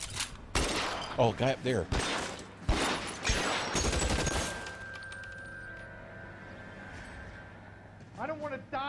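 Gunfire erupts in L.A. Noire as a loud flurry of close shots cracks out in clusters, then fades to quieter ambience. Someone speaks briefly over the shooting.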